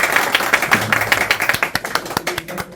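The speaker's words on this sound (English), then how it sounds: "So another round of applause for Prettyman's media team." An audience claps for a media team at a health awareness event on breast, bowel and cervical cancer, with sparse individual claps rising into a loose rhythmic patter of moderately near hands.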